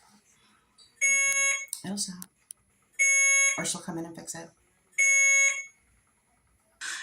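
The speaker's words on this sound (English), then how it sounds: "there's that beeping again." Three loud electronic alarm beeps sound at regular intervals, each a shrill repeated chirp, with people talking quietly between them.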